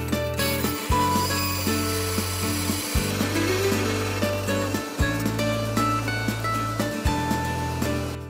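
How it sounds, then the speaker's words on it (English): A saw fitted with a 3/16-inch fine-tooth blade cuts thin birch plywood in repeated powered passes about every two seconds, a loud close whine that drops and restarts with each stroke. "I'm going to put a 3/16 blade, fine tooth blade on this, which should work great on cutting that thin birch plywood."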